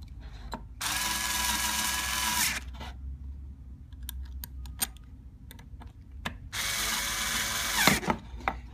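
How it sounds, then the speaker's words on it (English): A power drill boring through the holes of an NSR Tactical drill guide, in two loud, steady bursts of whirring a few seconds apart, with light clicks and taps of handling in between. "when you first drill through these holes, they're also going to be very, very tight."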